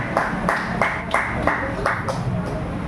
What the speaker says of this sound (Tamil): அவருக்கு உங்கள் அனைவர் சார்பில் ஒரு பலத்த கரகோஷம்.